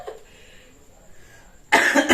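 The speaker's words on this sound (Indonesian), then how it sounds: "Sudah mulai batuk, teman-teman." A burst of harsh coughing from a man on a podcast after smoking a premium cigarette, breaking out suddenly and loudly at the very end after a stretch of near silence.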